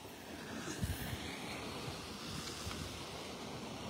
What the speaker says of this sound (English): Gonna be breezy when we hit the beach at Del Norwegians. No buildings blocking that wind.